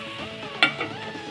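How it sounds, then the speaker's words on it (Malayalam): A spoon stirs mushroom masala curry in a pan, giving one clear metallic scrape against a soft sizzle. The stir is brief and close. "5 മിനിറ്റത്തേക്കിന് ശേഷം നമുക്കൊന്ന് തുറന്ന് ഒന്നുകൂടെ ഇളക്കി കൊടുക്കാം."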